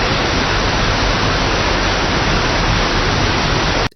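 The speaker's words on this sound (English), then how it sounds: "a waterfall-like effect," Unused ambient waterfall-like sound effect from the truck racing game Big Rigs: Over the Road Racing: a dense, steady wash of hissing, rushing noise that holds constant for about four seconds, then cuts off abruptly.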